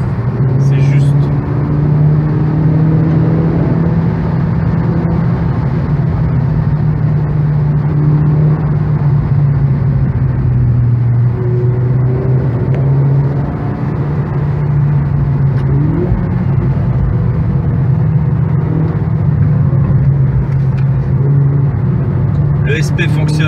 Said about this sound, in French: Nous sommes presque en drift, mais là, nous accélérons et c'est juste.